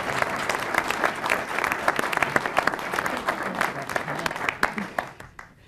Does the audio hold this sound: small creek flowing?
no